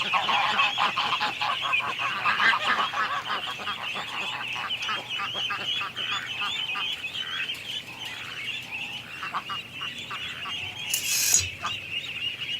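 Geese honk loudly and repeatedly near the listener, a dense chorus of overlapping calls in a yard where ducklings are kept, with a brief higher squawk near the end.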